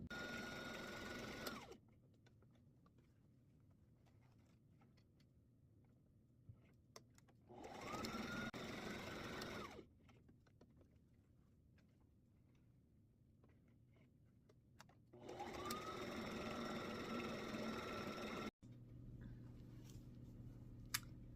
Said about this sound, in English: I'm going to take these over to the sewing machine and I'm going to stitch on the lines